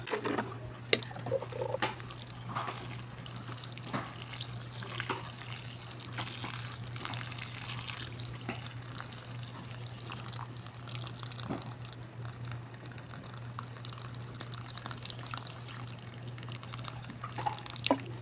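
Water poured onto a potted desert rose plant, soaking the soil: faint, steady trickling and dripping with scattered small drops and splashes, close by and alone, continuing throughout.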